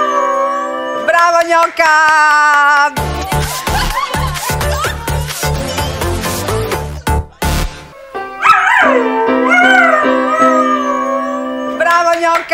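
A dog howls along with music, its long wavering yowl rising and falling near the microphone after a loud rhythmic musical passage, with a person speaking briefly in the clip.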